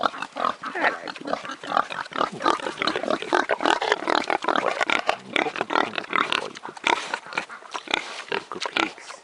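Pigs on a small farm grunt and oink repeatedly and loudly up close, a busy, continuous stream of snorts with little else heard.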